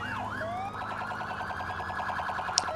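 A police siren wails in GTA IV, cycling steadily up and down, loud and continuous throughout with no one talking, and a short sharp blip near the end.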